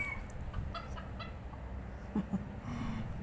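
A chicken gives a couple of short, quiet clucks amid faint outdoor ambience, with a few light ticking sounds.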